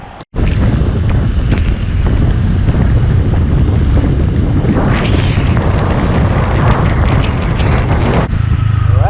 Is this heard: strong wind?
yes